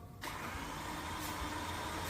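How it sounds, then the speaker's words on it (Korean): A freshly rebuilt S85 V10 from a BMW E60 M5 cranks over on an engine test stand for a timing check, giving a steady, close whirring drone that starts abruptly and runs without a pause and with no one speaking. "타이밍 동기부터 크랭킹 해봐"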